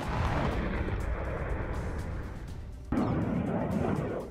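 Heavy Israeli bombardment of Khan Younis: a continuous loud rumbling roar of blasts, dipping briefly then resuming with a sharp renewed burst near the end, dense and booming throughout.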